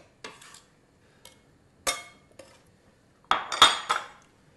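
Chopped onion scraped off a knife blade into a bowl while making mushroom risotto, heard as a handful of short clinks and scrapes spaced apart, the loudest cluster near the end, close and otherwise quiet.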